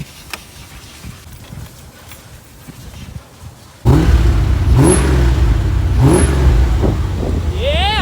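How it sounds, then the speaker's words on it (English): A 1988 Corvette cranks and fires after a few quiet seconds, then its engine roars loudly and close with repeated revs rising and falling, while people talk near the car. "Why don't you get in the car and start it up, man? I want to hear it."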